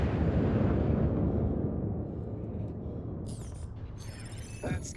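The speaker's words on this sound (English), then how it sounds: "Missile lock. Fire missile." A missile fired from a ship in a space-combat video game launches with a loud rushing roar that fades over several seconds, with a few faint electronic blips near the end.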